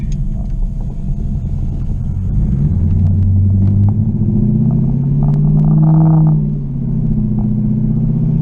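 A Chinavette car engine revs up loudly and close, rising in pitch and dropping back as it shifts through second, third and fourth gear before settling into lockup, a deep continuous rumble with faint clatter.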